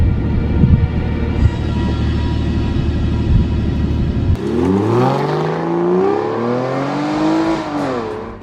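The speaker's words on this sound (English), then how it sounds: "That of course turns the car on, and doesn't it sound incredible?" An Aston Martin 5.9-litre V12 runs loudly and close, first a dense deep rumble, then a sudden shift to rising and falling revs with clear sweeping engine tones that settle near the end.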